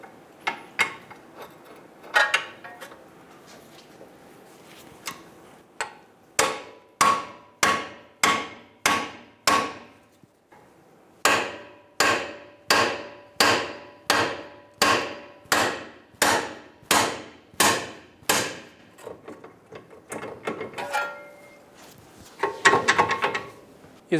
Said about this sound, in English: I'm going to use a pickle fork and separate the ball joint from the knuckle.